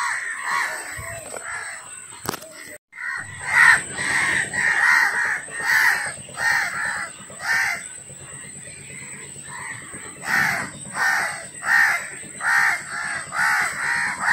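Crows caw repeatedly in the Sundarbans mangrove forest during a crab-catching trip, harsh calls coming in rapid overlapping bursts, loud and near, with a high steady insect whine behind them.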